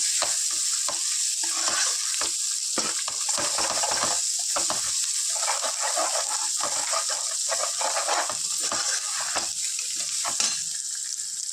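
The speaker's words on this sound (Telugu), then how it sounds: "ఒక స్పూను అల్లం వెల్లుల్లి పేస్ట్ వేసుకుందాం. స్పూన్ పసుపు వేసుకుందాం ఫ్రెండ్స్. వేసుకొని ఇలా ఫ్రై చేసుకుందాం." Ginger garlic paste and turmeric frying in a pan for fish curry, a constant bright sizzle with frequent metallic spoon stirring and scraping, close and alone.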